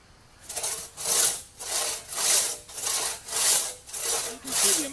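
A sharp one-man crosscut saw cuts through a log in seven rhythmic back-and-forth strokes, each a loud, rasping swish rising and falling at an even pace, close up with no voices.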